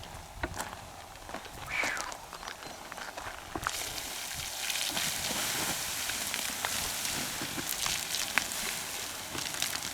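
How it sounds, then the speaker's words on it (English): Water sizzles and hisses on scorching hot ground beside a safe being fire-tested, a steady broadband crackle that grows louder partway through and continues under light ambient noise. "That water is sizzling on the ground."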